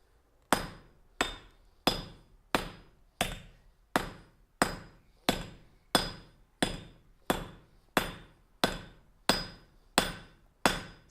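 Treadle hammer pounding metal on an anvil in a steady, even rhythm of about fifteen sharp ringing blows, close and loud, with nothing else heard.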